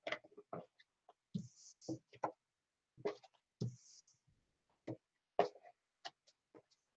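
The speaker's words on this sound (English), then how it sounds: "I'm just shuffling the cards out of habit" Playing cards being shuffled by hand during a quiet live stream, heard as a string of sharp, separate riffling snaps and ticks with short gaps between them, close and fairly soft, with no voices.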